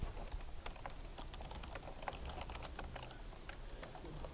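Steady keystrokes on a computer keyboard, a quick run of light clicks with brief gaps, close and moderately quiet over faint room noise.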